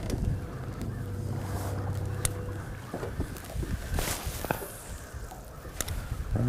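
Strong gusting wind buffets a fishing boat out on the water, rumbling and roaring steadily for several seconds with a few sharp knocks and bumps.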